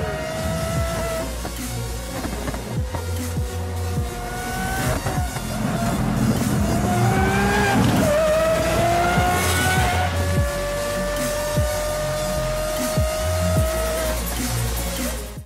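Tuned car with a Gintani tune revving hard and squealing its tires, loud and close. Engine pitch climbs and falls through repeated accelerations while sharp tire screeches cut in, with no voices.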